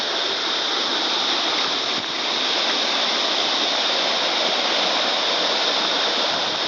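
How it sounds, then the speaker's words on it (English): A waterfall roars in a steady, loud broadband rush, unbroken throughout with no speech. "This is the start of the bigger waterfall of the two"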